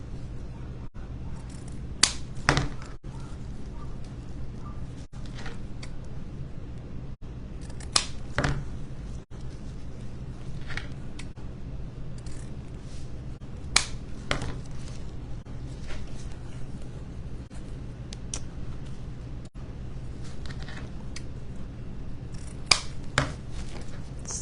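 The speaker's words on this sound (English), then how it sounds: "I think I'm just going to trim the ends now." Scissors trimming the ends of a rub-on transfer in a quiet crafting setting, a few sharp, close snips spaced irregularly over faint background hum.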